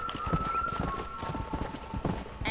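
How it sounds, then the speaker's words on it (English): Horse hooves clip-clop in a steady rhythm in the Western video game Red Dead Redemption, close and clear, with faint game music and ambience underneath. "meu cavalo não acompanha"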